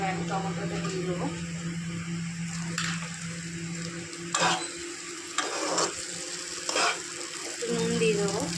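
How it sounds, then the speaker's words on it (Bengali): Tomato frying with browned onions for a fish curry spits and sizzles in a pan, with repeated loud spatula scrapes and stirring strokes over a steady background hum, close by. "এবার আমি টমেটোটা দিয়ে দেবো।"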